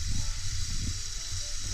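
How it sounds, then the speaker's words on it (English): Food fries on a Solo Stove fire with a steady, close, bright sizzle that holds evenly, under faint low crackles from the burning firewood and with no talking. "Some good frying going on there."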